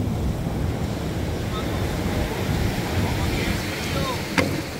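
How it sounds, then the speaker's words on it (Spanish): Large ocean waves break off the coast of Panama, heard from a fishing boat as a loud, continuous wash and roar mixed with heavy wind buffeting the microphone. "Aquí están los muchachos cazando las olas, porque las olas son bien grandes."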